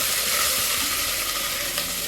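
Rice and pigeon peas cooked with Maggi djondjon are stirred in a pot, making a close, continuous sizzling hiss with soft scraping throughout and no voices.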